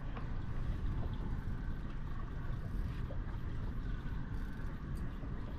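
A low, steady boat engine rumble drones on without a break, mixed with wind and lake water noise, fairly quiet and constant throughout.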